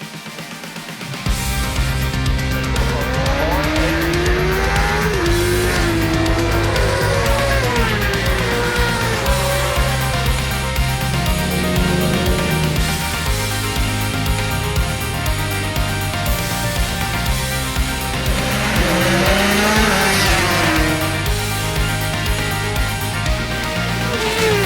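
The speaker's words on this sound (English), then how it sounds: "Dom, we're here back at Scarborough, we're enjoying the racing" Road racing motorcycles on the Olivers Mount parkland circuit at Scarborough, engines screaming through rising and falling gear changes, passing loud and steady from start to finish with no talk.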